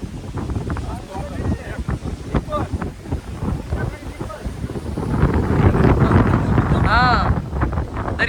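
Cyclone wind over the sea on the Gujarat coast roars and buffets steadily, with broadband rushing noise that swells louder in the second half; voices call out briefly over it.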